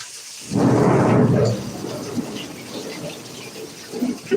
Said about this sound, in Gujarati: તો મિત્રો કડાકા ને ભડાકા થઈ રહ્યા છે